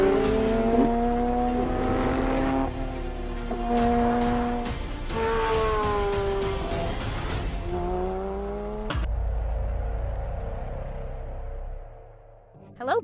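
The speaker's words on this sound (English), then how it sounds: "We are going to test drive this ordinary version of GT3 on the track." A Porsche 911 GT3 of the 992 generation driving on a race track, its engine revving up and down through gear changes, loud and sustained, before cutting off abruptly into quieter sound.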